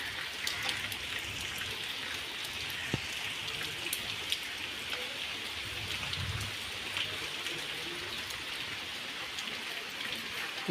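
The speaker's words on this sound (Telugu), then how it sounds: "ఇదిగోండి వర్షం." A downpour in the village makes a thick, constant hiss of rain on surfaces up close, with scattered heavier drips and splats and a brief low rumble midway, no speech.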